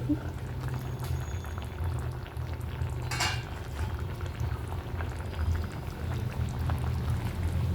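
Bhogi bhaji, a mixed vegetable dish, simmers in a pot with a soft, steady bubbling, broken once by a brief bright scrape or clink.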